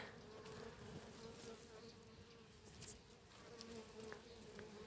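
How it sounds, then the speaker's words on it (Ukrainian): Bees buzz steadily and close by around flowers, a continuous droning hum with individual insects passing nearer at moments, no voices. "Бджоли скрізь бджоли."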